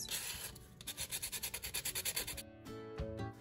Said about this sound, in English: Once I finished scuffing the edges